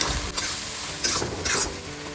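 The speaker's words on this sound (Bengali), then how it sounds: "দিয়ে দিচ্ছি টমেটো আদা বাটা হলুদ নুন লঙ্কার গুঁড়ো আর রসুন বাটা ভালো করে কষিয়ে দিচ্ছি" Tomato, ginger paste, turmeric, salt, chili powder and garlic paste are sautéed with fried onion in a hot pan, giving a steady sizzle broken by a few scraping stirs.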